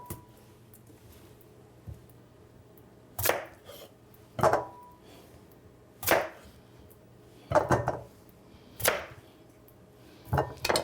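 Potatoes being cut with a knife on a board, about seven sharp chopping strikes spaced a second or so apart, close and distinct against a quiet room.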